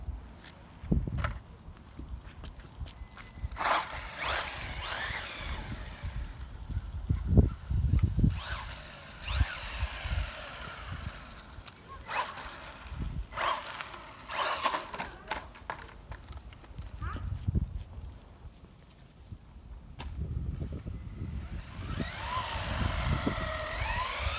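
A WLtoys A979-B RC truck, a cheap ready-to-run model rated around 70 km/h, runs fast on a street, its high-pitched electric motor whine rising and falling in bursts as it passes near and away.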